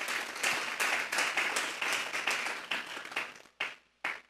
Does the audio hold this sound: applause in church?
yes